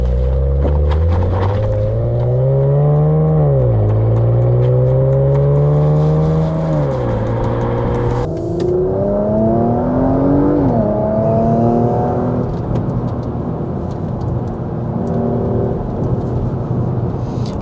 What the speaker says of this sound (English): Love the little turbo whine you get from the front as well